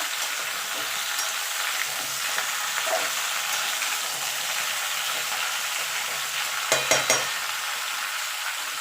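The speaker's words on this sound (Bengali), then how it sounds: "আর সিম দিয়ে একটু ভাজা ভাজা করে নেবো সবজিগুলো একটু নরম হয়ে যাওয়া পর্যন্ত" Ridge gourd and broad beans stir-frying in a pan, a steady close sizzle with occasional stirring scrapes and a few louder clatters near the end.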